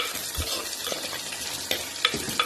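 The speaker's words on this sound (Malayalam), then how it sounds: "ഇതിലേക്ക് ഉള്ളി ഇട്ട് കൊടുക്കാം. ഉള്ളി നന്നായി ഇളക്കി കൊടുക്കാം." Onions with curry leaves sizzle and fry in a pan while being stirred, with a steady crackling hiss broken by a few scraping stirs. No one speaks.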